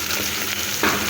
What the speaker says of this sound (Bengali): এখানে আমি টমেটোটাও দিয়ে দেবো